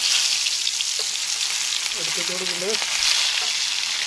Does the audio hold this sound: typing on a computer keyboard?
no